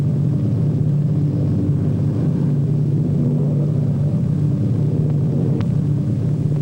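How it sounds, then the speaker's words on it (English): A propeller airplane comes in to land at an airport, a steady low droning engine rumble holding at an even level from start to finish, with no voices. "Our pilot brings his plane in to a smooth landing."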